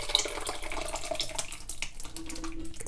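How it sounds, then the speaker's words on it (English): Homemade sauce pours steadily over meatballs in a pot, a close, continuous liquid stream lasting a few seconds with no talking. "the sauce that we made, I'm just going to pour it right into my meatballs"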